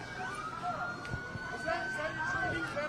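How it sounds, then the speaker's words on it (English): Emergency vehicle sirens wail at a distance during a street protest in Minnesota, a thin wavering tone rising and falling steadily over background crowd noise and muffled voices. "Hearing sirens not too far from where we're standing"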